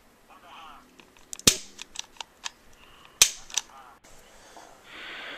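Sharp, snappy clicks from a spark igniter on a homemade PVC Nerf cannon, a few loud isolated snaps among smaller ticks and handling noise, heard close up.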